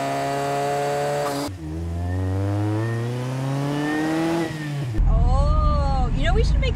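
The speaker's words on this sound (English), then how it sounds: "the ambient engine noises" A car engine hums and revs in changing pitch, a steady drone rising and falling, then a harsher, louder motor note near the end.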